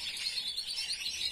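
A young Valenciana canary in a cage sings a rapid, bright trilling phrase, faint and continuous, without a clean finish, with no other sounds.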